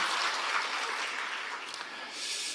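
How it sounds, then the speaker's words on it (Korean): An audience at a district New Year's greeting ceremony applauds, a short, steady burst of many hands clapping at moderate distance that continues throughout, with no one talking. "우리 큰 박수 한번 보내드립니다"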